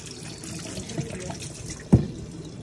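Tap water runs steadily over pork ribs being washed for sinigang, a continuous splashing wash with one brief louder splash near the end, no talking.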